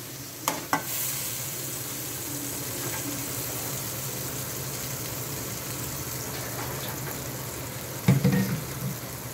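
Spice paste with ajwain and cumin frying in hot oil, giving a steady close sizzle, with sharper utensil knocks and stirring clatter near the start and again near the end.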